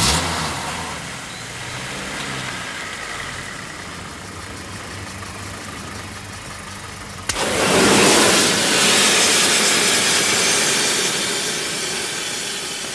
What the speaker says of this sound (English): we've got that pool of burning petrol, which my assistant is going to set a match to